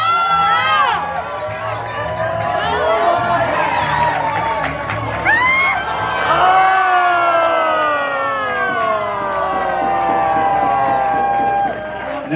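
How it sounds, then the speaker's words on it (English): Crowd cheering and shouting at an outdoor lumberjack show during a log-rolling contest, loud and continuous with rising whoops and voices for about twelve seconds. "So you got to cheer for him right now."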